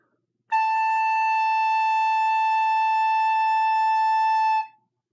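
A recorder holds a single steady A, fingered with the thumb hole, top hole and left-hand middle hole covered, sustained cleanly for about four seconds with a pure tone and no talk.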